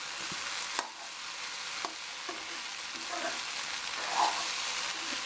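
Okra (ladies' finger) frying in a pan, a steady close hiss of sizzling oil with a few soft utensil taps.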